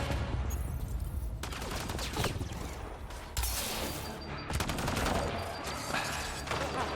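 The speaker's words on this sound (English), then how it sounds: "Someone's shooting me." Gunfire from enemies in Mass Effect: Andromeda crackles in dense, sustained bursts of rapid shots, loud and close, with brief lulls between volleys and no talk over it.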